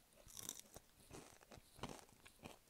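Someone eats McCain fries and tater tots with cheese sauce close to the mic, producing faint, irregular crisp crunches and chewing bites with soft mouth sounds in between and no talking.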